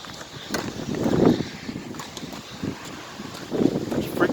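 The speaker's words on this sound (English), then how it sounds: "It's freaking so windy." Strong wind gusts rush across the microphone in an open outdoor spot in Conneaut, Ohio, swelling and easing in loud buffeting surges over about four seconds.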